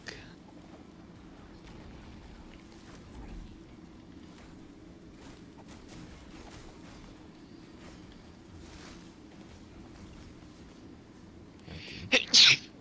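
One sneeze bursts out loudly near the end during a co-op livestream of Gotham Knights, after a long stretch of low, steady game background hum.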